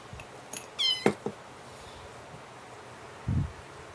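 A kitten meows a few times in short, close, high cries near someone crocheting, followed by a soft rustle and a low thump.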